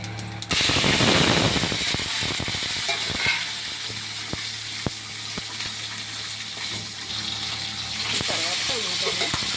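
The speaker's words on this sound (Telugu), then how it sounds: "పచ్చిమిర్చి వేసుకుని జీలకర్ర వేసుకుని తర్వాత టమాటాలు వేసుకుని ఇది శుభ్రంగా వేయించుకోవాలి" Green chillies, cumin and tomatoes fry in a hot pan for a mint chutney, giving a loud, steady sizzle with occasional clinks of a stirring spoon against the pan.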